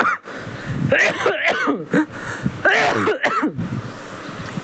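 A man coughs and clears his throat in a few harsh, close bursts with short gaps, standing alone without talk.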